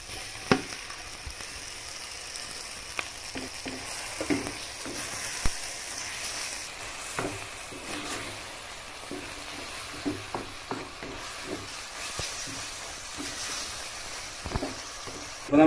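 Cooked liver frying in a pan for liver fry: a steady, close sizzle runs throughout, broken by repeated sharp clicks and scrapes as it is stirred.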